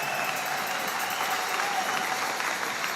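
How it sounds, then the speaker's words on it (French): Church congregation at a Sunday service claps and acclaims Jesus, a dense, continuous roar of applause filling the room at steady loudness for the whole stretch. "Des acclamations à Jésus."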